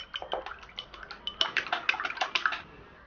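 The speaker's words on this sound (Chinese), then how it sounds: "把蛋液倒在排骨上面" Beaten egg from two eggs is poured over large pieces of raw pork ribs, giving a quick series of close, wet splatters and drips that grows denser before stopping.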